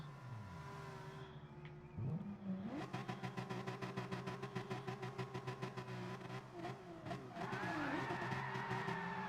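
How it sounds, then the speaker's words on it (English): Racing cars spin their wheels in a sim racing game at Autopolis Circuit: several engines rev hard and steadily, with tire squeal and rapid ticking under the drone, and no talk. "Big handful of wheel spin from Reg GT. Great big pile of wheel spin from Don as well."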